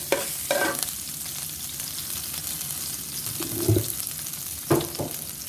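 Kale stir-fried in a hot pan with canned fish, smashed chili and garlic: a continuous sizzle broken by several sharp scraping clatters of the spatula against the pan, close and fairly loud, with no talking.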